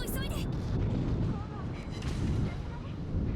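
Battleship Kremlin in World of Warships letting off a full salvo from all its gun turrets, a heavy rumbling roar of big guns close and loud, with a voice talking partly over it.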